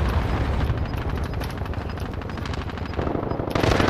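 Rapid automatic gunfire in Call of Duty Warzone on Rebirth Island, dense bursts of machine-gun shots rattling continuously, loud and close, with brief heavier blasts mixed in.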